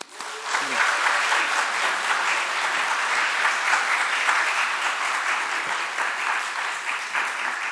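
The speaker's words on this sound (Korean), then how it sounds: "이제 이한규 목사님을 큰 박수로 환영하며 이 자리에 모시도록 하겠습니다." A church congregation applauds loudly to welcome Pastor Lee Han-gyu, with dense continuous clapping that rises quickly and holds steady for several seconds.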